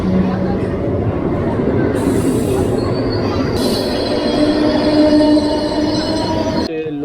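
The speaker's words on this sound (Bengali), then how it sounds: "এখান দিয়ে একটা মেমোস প্যাসেঞ্জার যাচ্ছে।" Rumble and wheel noise of a MEMU passenger train running alongside the Gonda Asansol Express, steady and loud throughout, with squealing wheels and brief higher hiss, ending in a quick drop near the end.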